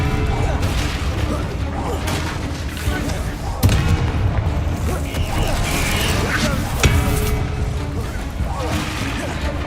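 Repeated Bombarda blasting spells crack and boom in Hogwarts Legacy amid dense, continuous combat noise, with a few sharper explosive hits standing out. Someone speaks over the action.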